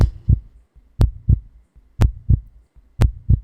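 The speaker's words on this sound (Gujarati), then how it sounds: "તમને તમારા હૃદયની અંદરથી જ્યારે ધબકારા સંભળાય," Steady heartbeat, close and clear, with a double thump about once per second, four beats in a row and no other sound.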